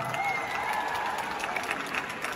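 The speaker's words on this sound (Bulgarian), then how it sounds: "Искам силни аплодисменти" Steady applause with some crowd noise from an audience at a live reality-show finale, dense and continuous throughout.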